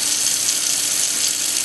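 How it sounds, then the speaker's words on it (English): Tap water runs steadily over butterflied shrimp in a sink, a loud, continuous hissing rush of flowing water with no talk. "Rinse that off."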